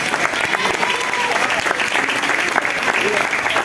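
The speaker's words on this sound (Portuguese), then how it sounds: "Você pode aplaudir e glorificar o Senhor" A church congregation applauding during a Sunday worship service, continuous clapping with a crowd murmur and voices running underneath the whole time.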